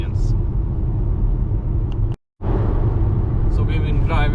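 A Volvo XC40 Recharge P6 electric car rolling along a road, a steady low tire and wind rumble from inside the cabin, broken by a sudden brief dropout midway before the drone resumes.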